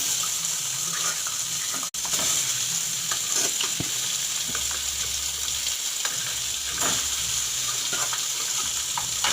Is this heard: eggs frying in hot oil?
yes